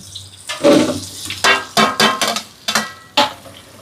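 Sizzling and clattering as spices and cashews fry in a hot pan for chicken biryani, with bursts of frying hiss and scraping, close and without talk.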